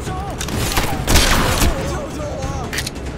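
Rapid gunfire from the video game Contract Killer 2 crackles in a dense burst of overlapping shots, fairly loud, with someone talking over it.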